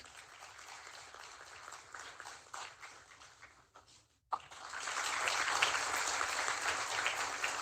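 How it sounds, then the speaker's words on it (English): Audience at a national academic conference hall claps after a bouquet presentation to the chief guest, a soft patter that briefly drops out then returns louder and fuller. "Have a great round of applause."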